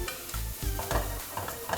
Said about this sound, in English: You leave it to sizzle and fry for about 3 minutes.